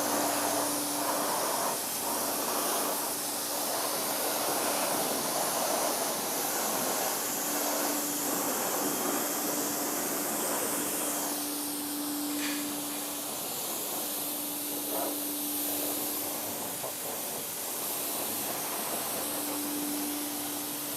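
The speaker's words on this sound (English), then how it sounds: "now we're just gonna go ahead and rinse it off." Pressure water spray rinsing wheel cleaner off a car during detailing, a steady broad hiss with a faint hum underneath, continuous and fairly distant for the whole stretch.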